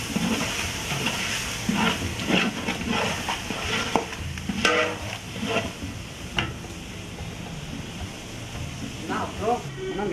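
Tomatoes fry and get stirred in a big pot for an Ambur chicken biryani, a steady sizzle broken by repeated scraping stirs of the ladle, with people talking nearby throughout.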